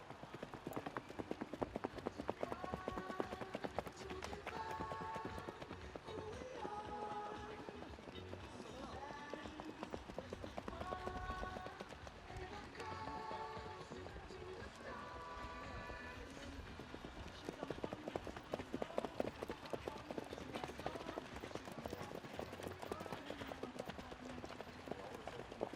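Horse hooves clip-clop in a steady, repeating rhythm as horses go past at a tölt riding competition, a youth T1 event at a Reykjavík championship. Loud and continuous throughout, with a voice talking over a PA and faint background noise.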